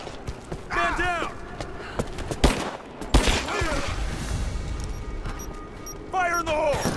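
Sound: gunfire in the video game Rise of the Tomb Raider

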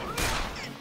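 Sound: gunfire from video game Yakuza 6

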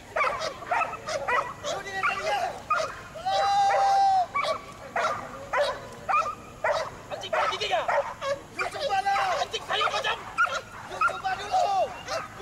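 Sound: police dog barking

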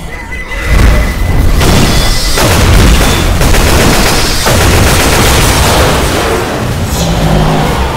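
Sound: grenade explosion in the video game Left 4 Dead 2

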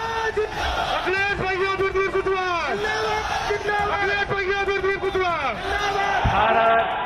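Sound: crowd chanting slogans at a political rally

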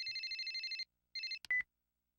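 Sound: mobile phone ringing in video game sound novel Machi

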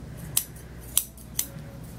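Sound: scissors cutting dog hair

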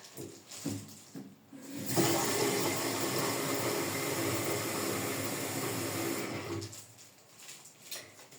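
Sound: pouring very hot water

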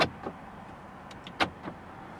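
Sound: car lock button clicks

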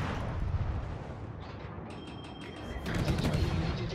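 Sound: ship guns firing at the Lepanto in World of Warships video game

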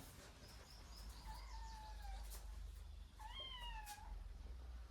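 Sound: domestic cat meowing

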